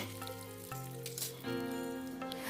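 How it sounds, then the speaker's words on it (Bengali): Capsicum fries in oil over a medium flame, a soft steady sizzle punctuated by a few stirring scrapes and knocks, with a faint low hum beneath. "এবার এই তেলেই আবার ভেজে নিচ্ছি ক্যাপসিকাম।"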